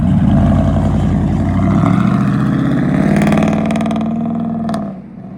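A lifted 2017 Chevrolet Silverado 1500 LT Z71 4x4 pickup with a 5.3L V8 on 37-inch tires revs hard and accelerates away. The loud engine roar holds steady, then fades as the truck pulls off.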